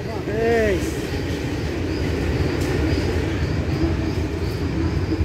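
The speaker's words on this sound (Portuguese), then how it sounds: "E lá vem o trem, viu? Lá vem o trem." A train passes close by at an outdoor dove-hunting spot, a steady, loud rumbling roar that fills the whole stretch with no breaks, and a short bird call rises early on.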